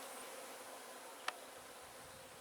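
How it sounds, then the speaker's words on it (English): A large swarm of honeybees buzzes outdoors near a house, a constant, faint, even drone throughout with one sharp click partway through. "Gary is filming a swarm of bees."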